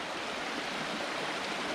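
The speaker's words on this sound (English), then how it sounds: "it's a pretty big stream" A large stream flows over quartzite beneath river cliffs, a steady, loud rushing hiss of water with no talk.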